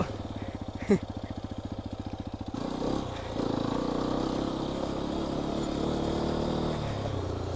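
A Hero Xpulse 210 motorcycle rumbling over slippery small rocks on open farmland, a steady close engine putter at first, then rougher, louder riding noise with clatter as the bike moves over the uneven ground.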